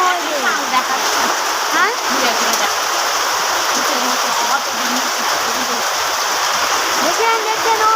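Lots of water rushes and splashes in a steady, loud, close stream like heavy rain or a waterfall, with a few voices speaking briefly over it.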